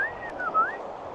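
Under aurora skies, a person gives a single clear whistle that glides down and back up in pitch, heard alone over faint background hiss.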